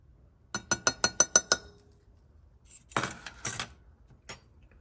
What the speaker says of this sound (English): I'm gonna get all this stirred in.